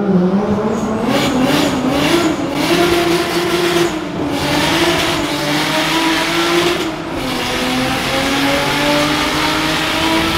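A Toyota Supra engine revs hard while accelerating through first, second and third gears, giving a loud continuous roar with rising and falling pitch sweeps as it shifts, close and dominant throughout.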